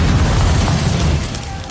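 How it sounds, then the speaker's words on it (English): Explosion in a dramatized scene, a dense booming blast with crackling debris that fills the clip and slowly fades, loud and close with no voices. "Another explosion, and another."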